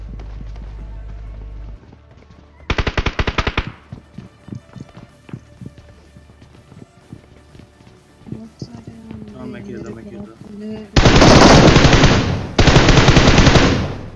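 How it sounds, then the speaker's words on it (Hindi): M4 Glacier rifle fire in a battle-royale shooter game, several loud rapid bursts of automatic gunfire separated by footsteps and quieter game sounds. "मैं M4 ग्लेशियर ही चलाऊंगा इस वाले मैच में"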